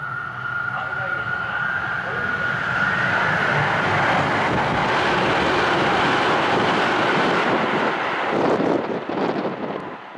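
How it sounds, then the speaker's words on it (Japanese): Tsukuba Express commuter train passing through a station, a loud sustained rushing roar with wind buffeting that swells over ten seconds, while a platform announcement voice speaks. "まもなく電車が通過いたします。"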